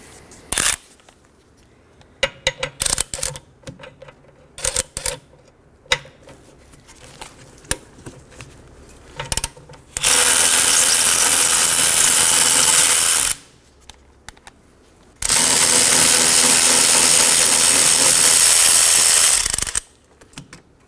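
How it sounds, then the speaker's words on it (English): Caliper bracket bolts (19mm) come off the rear brakes of a 2015-2023 Nissan Maxima: scattered ratchet clicks and tool taps, then two loud, sustained bursts of a powered wrench of several seconds each. "Now I'm going to remove both my 19mm caliper bracket bolts."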